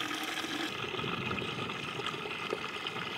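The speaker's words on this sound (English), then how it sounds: "Okay, it's pouring out now." Water pours steadily out of an exterior bell siphon outlet, a continuous rushing, gurgling flow at moderate volume with no talk.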